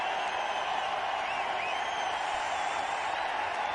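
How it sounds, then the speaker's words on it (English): A cricket crowd at an India versus Australia match in Mohali roars for Sachin Tendulkar's half-century, a dense, steady wall of cheering that holds at one level throughout with no single voice standing out. "As he raises his bat there, the crowd goes wild."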